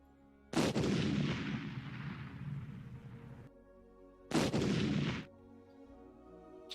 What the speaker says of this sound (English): you hear an explosion from the area you guys previously were at